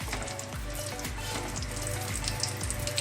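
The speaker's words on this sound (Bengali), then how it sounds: "আমি বাকি ডেভিলগুলোকেও খুব ভালো করে ব্রাউন করে ভেজে নেব।" Breaded deviled eggs fry over low heat in a pan of oil, a close, continuous crackling sizzle with light popping, steady and unbroken for a few seconds.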